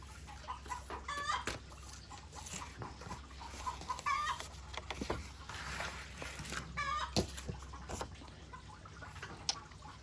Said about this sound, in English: My chickens say hello.